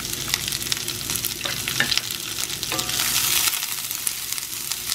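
Onions with cumin sauté in a hot pan, sizzling and crackling continuously up close while a spoon stirs and scrapes through them in uneven strokes.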